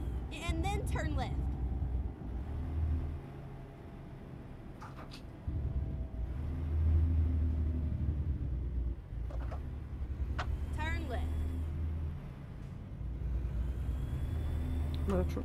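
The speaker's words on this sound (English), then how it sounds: "Truck's making all kinds of noises" A truck engine from American Truck Simulator drones low and steady, rising and falling in rumbling stretches, while someone talks over it.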